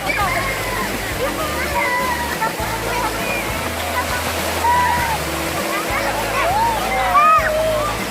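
Water splashes while a face is washed, a continuous close sloshing and dribbling, with voices audible over it.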